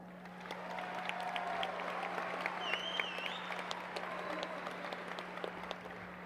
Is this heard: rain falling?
no